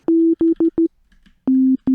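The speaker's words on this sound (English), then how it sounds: "I have a sine wave peaking around -3" A steady low pure tone plays in clean bursts, four short pulses of uneven length, a pause, then two longer ones, loud and isolated with no other sound.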